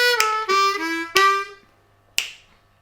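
A blues harmonica plays a short lick with clear sustained tones that bend and shift, sounding alone with a sharp attack near the end and no talking.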